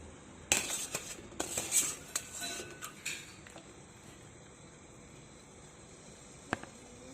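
Lemongrass and pandan drink being ladled out and strained through a fine-mesh sieve, with several clinking metal taps and scrapes early on, then quiet pouring and one later clink.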